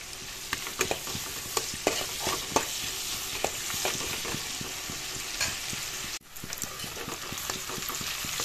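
Onions sizzle and fry with spinach in a pan, a steady close hiss broken by repeated scraping stir strokes, with a brief cut partway through before the frying resumes.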